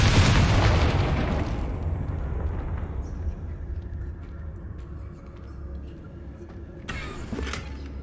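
A Confringo blasting spell in Hogwarts Legacy erupts in a loud, close explosion at the start, with a rumbling tail that slowly fades, followed by a brief sharper burst near the end.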